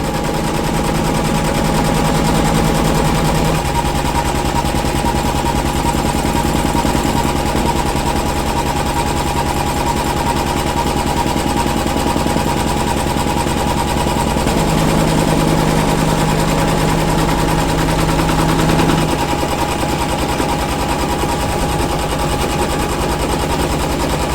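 A sewing machine runs continuously at a fast, even rate while stitching fabric panels for a wire frame bag, a close mechanical rattle that holds steady with slight speed shifts.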